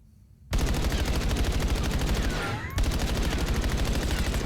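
Rapid, continuous gunfire from a semi-automatic weapon in the video game Black Ops 7, its trigger pulled as fast as possible, forms a dense, loud, evenly paced burst with a brief dip near the middle.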